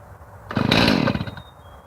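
A chainsaw sputters to life with a sudden loud roar, runs rough for about a second, then drops back to a quieter idle.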